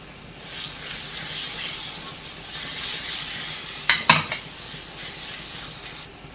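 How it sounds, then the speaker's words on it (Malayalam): Tomato chutney ingredients with wilted leaves and coconut are stirred and sautéed in a pan, giving a soft, steady sizzle with scraping strokes and a couple of sharp spoon clinks against the pan midway. "ഇതെല്ലാം കൂടെ ഒന്ന് ഇളക്കി വഴറ്റിയെടുത്തുകൊണ്ട് വരാം"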